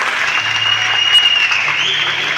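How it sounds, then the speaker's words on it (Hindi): Church congregation at a harvest meeting giving loud applause in thanks to God, a steady wash of clapping with a faint sustained tone running underneath. "क्या हम इन सबों के लिए जोरदार तालियों के साथ परमेश्वर का धन्यवाद दे सकते हैं?"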